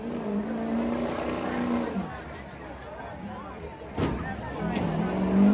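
A 6.0 Powerstroke truck running laps on a rough truck course at a county fair, its engine roaring and changing pitch under loud crowd noise and commentary.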